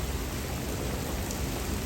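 Heavy rain pouring during a strong storm, a dense, steady hiss that holds unbroken for a couple of seconds.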